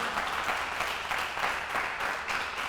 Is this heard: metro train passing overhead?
no